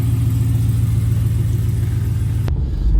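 A noisy small car's engine drones at a steady low pitch while it drives, loud and close throughout, with a sharp knock near the end as the hum shifts.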